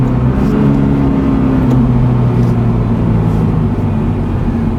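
Engine of a manual-transmission car running at a loud, steady pitch from inside the cabin, a sustained droning hum without talk.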